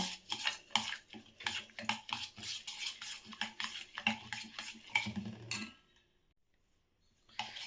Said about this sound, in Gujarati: બે ચમચી જેટલું દહીં લઈશું અને આ બધું જ હલાવી દઈશું